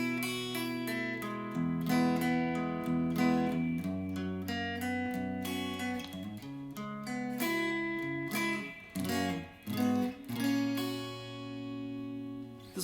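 Electric guitar playing the second part of a riff, a steady run of picked chords and single notes, close and clear with no talking, with a few brief stops and a ringing final chord.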